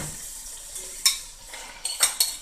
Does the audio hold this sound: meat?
yes